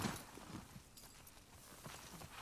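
Horse hooves clip-clopping in The Last of Us video game, a faint, irregular series of soft hoof thuds at a walking pace, quiet and alone with no talk.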